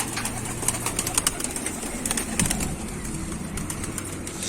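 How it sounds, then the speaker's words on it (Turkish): Pigeons released into the air: quick bursts of wing flapping, close and fairly faint, with soft cooing and light background noise in between. "İlk güvercimi salalım."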